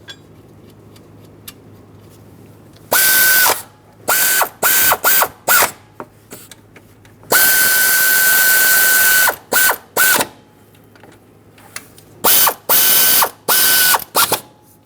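A ratchet wrench tightens bracket mounting hardware on a 2003-2009 Dodge Ram 2500 5.7L V8, with loud close clicking bursts of varying length, one long run and several short pulls, separated by quiet pauses.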